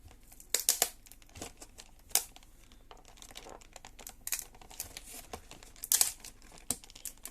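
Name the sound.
tearing open trading card tri-pack packaging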